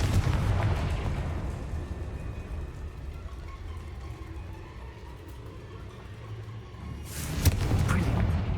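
A Confringo spell explosion in Hogwarts Legacy on PS5 gives a loud burst at the start and another booming blast near the end, with a steady rumbling background between them.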